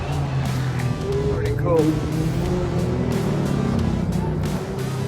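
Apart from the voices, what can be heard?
race cars passing at Nurburgring Turn 1 during qualifying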